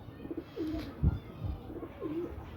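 A pair of free-roaming pigeons coo softly nearby: two low, rolling coos a moment apart, each with a gentle rising-and-falling contour, over a quiet background.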